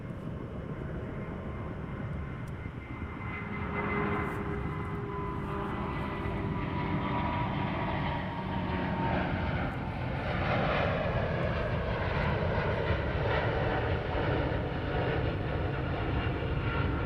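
A Boeing 787 Dreamliner airliner passes near Heathrow Airport, its broad jet engine roar steady and loud throughout, swelling slightly midway as the aircraft goes by.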